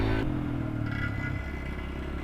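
A small Yamaha motorcycle engine revs up close at a coastal beach resort in Lobo, Batangas, a short rising burst followed by a steady, rough idle-like drone with some clattering.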